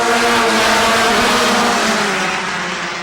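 Race cars at Rockford Speedway roar loudly as they accelerate together at the green flag, a dense, sustained engine drone from close range.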